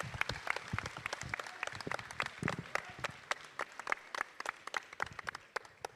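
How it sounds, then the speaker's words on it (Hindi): A small class audience claps in scattered, distinct individual claps, a sparse and uneven patter that carries on for several seconds at moderate volume. "तालियां भाई तालियां"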